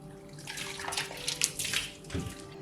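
Wet wool lifted out of a pot of water into a strainer, with close sloshing, dripping and trickling water that swells and fades in short pours, no voices.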